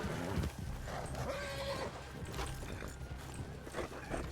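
A horse in the video game RedM clip-clops on its hooves and gives a short whinny, fairly quiet, with game sounds around it.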